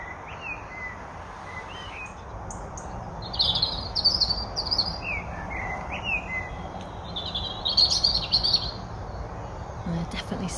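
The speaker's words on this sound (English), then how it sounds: "we've got robins singing on the right and blackbirds singing on the left." Robins and blackbirds sing in a dawn chorus, bright warbling phrases coming in bursts over a soft, steady outdoor background, moderately near and clear.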